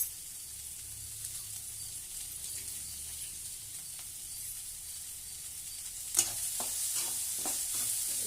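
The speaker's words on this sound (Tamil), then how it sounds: "உப்பு போட்டு நல்லா வதக்கி விட்டுடலாம்." Snake gourd and shallots sauté with salt in a pan, a steady, even sizzle throughout, then a sharper burst of spatula scraping and stirring near the end.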